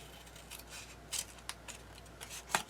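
Scissors cut paper for a handmade journal with a few crisp, close snips spaced irregularly over a few seconds. Each cut is quiet and short, with a faint low hum underneath.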